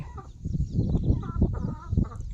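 Backyard chickens, eight hens and a rooster, cluck close by, a steady run of short, throaty clucks with no voices over them.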